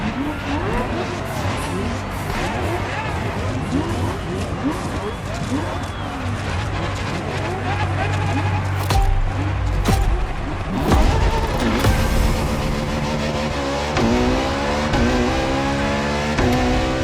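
A 2013 Ferrari LaFerrari hybrid supercar in Motorfest, engine howling up through the gears with rising and falling revs, a long sustained roar, then quick upshifts and a final climbing wail, with a voice talking over it.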